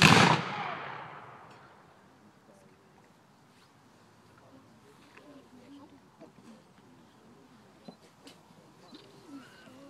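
A rank of Civil War reenactors fires a musket volley at a Stones River battle reenactment, one loud sharp blast that decays into a long rumbling tail, followed by quieter crowd murmur and scattered distant pops.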